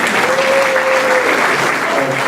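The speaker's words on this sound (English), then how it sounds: "give him a round of applause" Audience applause at a hall of fame induction ceremony: dense, sustained clapping from a large crowd, loud and steady throughout, with a voice faintly heard beneath it.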